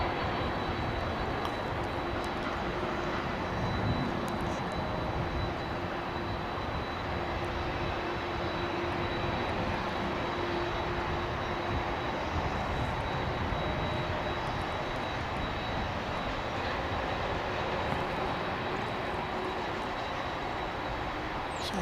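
A Boeing 767 jet at Dallas/Fort Worth Airport roars with a loud, sustained engine rumble and a thin high whine, holding steady and unbroken throughout with no voices.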